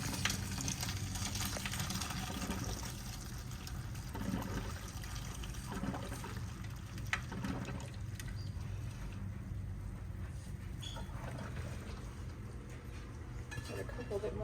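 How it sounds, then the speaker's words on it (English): Boiled macaroni noodles being drained of their cooking water, a steady continuous pour and splash with trickling running throughout at moderate level, with faint voices underneath. "put them in this and drain all the water off of them."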